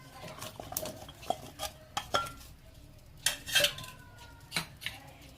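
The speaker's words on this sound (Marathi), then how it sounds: "आता त्याच्यामध्ये कांदा टाकूया जो मी लांब चिरून घेतला आहे" Long-sliced onion goes into a pan already holding halved tomatoes for momo chutney, giving a series of close metallic clinks, scrapes and stirring knocks spread across the clip, with no talk.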